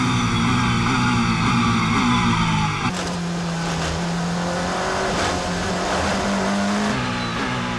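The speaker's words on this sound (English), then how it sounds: "GTE Am battle being passed by the Porsche and Toyota battle for" Porsche and Toyota endurance race cars battling at Spa in the WEC 6 Hours, engines screaming loudly at high revs with gear changes, one car's tone dropping sharply as another roars close by.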